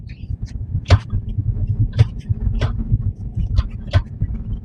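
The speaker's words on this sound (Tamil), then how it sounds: "டி மோட்ல போட்டு ஆக்சிலேட்டர் கொடுக்குறேன்" An automatic car with a gear-shifting fault (P0748 pressure control solenoid) accelerates in drive: a steady low engine rumble with a sharp ticking or knocking transient about once a second.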